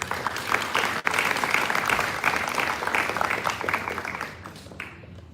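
Dense applause from an audience at a sixth form leadership summit, loud and steady for several seconds before thinning and fading out toward the end.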